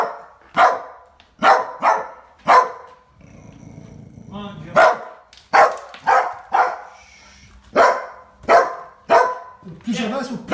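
An abandoned dog inside a messy apartment barks in repeated sharp bursts, close by, with a low growl between barks and a person talking faintly in the background.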